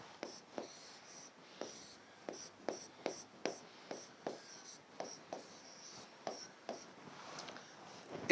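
A pen on paper drawing small boxes, with short scratchy strokes repeating in a quick, fairly regular rhythm, close and clear in a quiet room.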